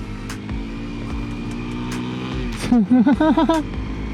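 A 230cc motorcycle pulls away on a test ride in Thailand, its engine droning steadily before a run of rising revs that come in quick, loud bursts through the gears near the microphone.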